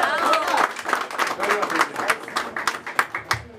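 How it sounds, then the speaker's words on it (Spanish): Audience applause at a birthday celebration with mariachi, a steady wash of clapping that thins into scattered claps near the end, with a voice speaking over it. "el aplauso bien bonito para ellos"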